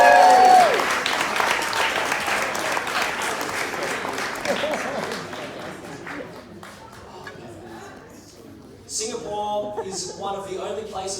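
Applause from an audience at a comedy show starts loud, then thins and fades, and is followed by a short renewed burst of clapping and crowd noise near the end.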